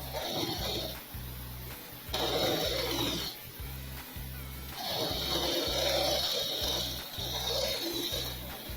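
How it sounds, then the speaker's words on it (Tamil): A sewing machine runs in steady stretches stitching a petticoat seam, its motor hum and rapid needle chatter starting and stopping several times, close and fairly loud with no talk. "இந்த ஓரம் அப்படியே தையல் போட்டுருவோம்."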